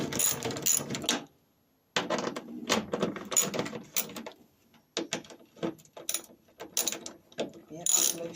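A socket ratchet loosens bolts on a Ford Cortina mk3 estate during wing repair work, with quick close clicking bursts in uneven runs and a few short pauses between strokes.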